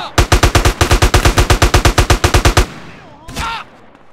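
Rapid automatic gunfire in GTA San Andreas on Grove Street: a loud, close burst of about twenty evenly spaced shots over two and a half seconds, then a faint echoing tail and a brief whooshing sound.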